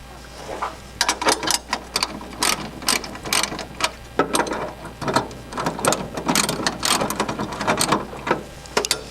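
Hand ratchet loosening the bolts on a Mustang's stock strut brace, rapid repeated clicking strokes in uneven bursts, close and fairly loud, with no talk.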